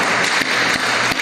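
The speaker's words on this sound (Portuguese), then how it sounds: "Vamos aplaudir o Senhor por isso" A church congregation applauds, with many hands clapping in a thick, continuous burst that stays loud and close for a brief moment.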